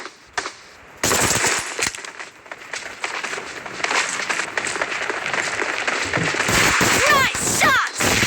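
Gunfire in the video game Battlegrounds Mobile India, with an M1014 shotgun in an arena fight, erupts after a brief quiet into dense, rapid bursts of shots and impacts, loud and continuous, under shouted game voices.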